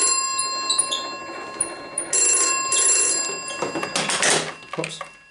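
An old Ericsson telephone switchboard bell rings in bursts as its magneto is cranked by hand. The close metallic trilling comes over a background of electronic tones, with a voice speaking briefly.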